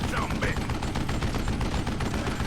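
Continuous rapid gunfire from a Call of Juarez Western shootout, dense crackling bursts steady throughout with a voice briefly talking over it.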